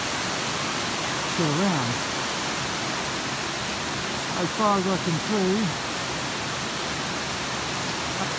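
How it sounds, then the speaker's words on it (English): A waterfall roars as a loud, constant broadband rush close by, reached on a solo overnight hike between Lost World and Rat A Tat Hut, with someone speaking briefly over the water. "I've come up to a waterfall"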